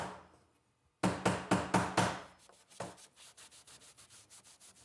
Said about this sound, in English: and wipe off any excess glue.